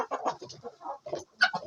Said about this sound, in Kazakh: Ломон Браун деген осындай қызыл тауықтар ғой